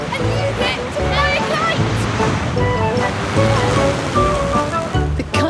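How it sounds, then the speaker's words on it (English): Sea waves washing and surging continuously, with wind noise mixed in and a voice talking over them. "It can make waves on the sea"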